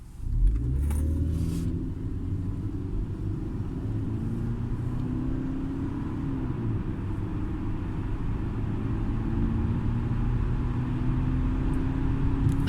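A 2007 Mercedes C180 Kompressor (W203) supercharged engine drones steadily as it accelerates from 0 to 100 km/h, its low rumble and rising supercharger whine holding loud and close throughout with no talking.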